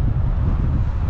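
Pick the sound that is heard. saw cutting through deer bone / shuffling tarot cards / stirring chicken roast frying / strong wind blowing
strong wind blowing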